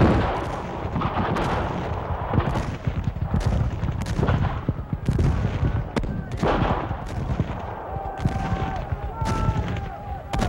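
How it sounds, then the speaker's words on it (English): Repeated booming Union cannon shots at dawn over a dense, noisy battle din, with rumbling blasts coming every second or so throughout. "Union cannon opened fire."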